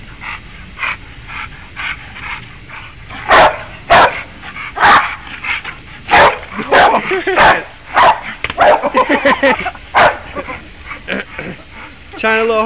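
A pit bull barks in short sharp bursts, some close together, amid playful splashing and a person's encouraging voice.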